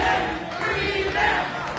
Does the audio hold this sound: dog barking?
no